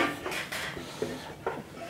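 A chisel pares across a wooden seat tenon on a perch stool, giving several quiet, short scraping slices at an even pace, close up and alone.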